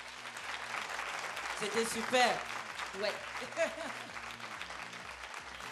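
During a live FM radio show, a small audience applauds a singer. The clapping is fairly faint and sits under soft background music, with a couple of brief spoken remarks.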